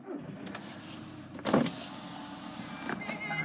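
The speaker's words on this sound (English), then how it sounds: "Front electric windows." A Volkswagen Golf's front electric window whirs as it motors along, with a couple of soft thumps partway through, close and fairly quiet.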